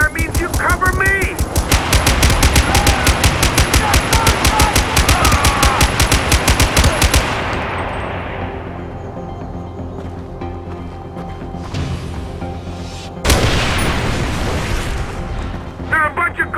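Rapid machine-gun bursts and heavy gunfire fill a Far Cry 4 battle, loud and continuous for several seconds. The shooting then eases into a ringing decay before another loud burst erupts.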